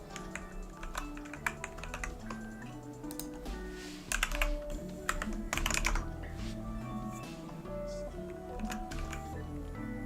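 Quiet computer keyboard keys pressed in quick irregular bursts of clicks, with a busier flurry of taps in the middle, heard close and alone while someone edits code.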